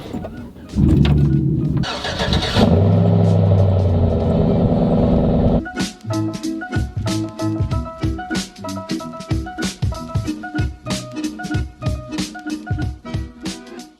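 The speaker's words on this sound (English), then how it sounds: "I love when this truck pulls in here." A 2005 Chevrolet Cateye pickup cranks and starts with a loud churning engine, then settles into a choppy, pulsing run as it drives and pulls into a shop, close and prominent throughout.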